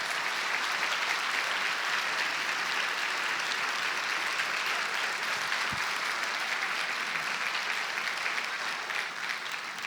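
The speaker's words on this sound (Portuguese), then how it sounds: "Eu queria que você desse uma linda salva de palmas a esse Jesus" A church congregation at a Portuguese-language service gives sustained, dense applause, a steady wash of clapping with a single soft thump partway through.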